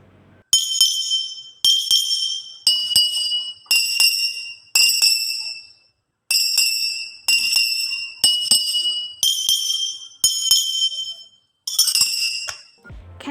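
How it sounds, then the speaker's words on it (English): Water-filled glasses struck one after another in a musical glass experiment, each giving a bright ringing tone of a different pitch, about a dozen separate clear chimes with brief decays. "If you listen carefully, you could hear that every sound coming from the glass is different."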